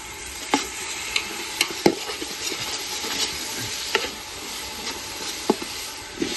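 Ginger garlic paste frying in a pot for village-style chicken biryani, a steady close sizzle with scattered scrapes and clinks of a stirring spoon against the pot.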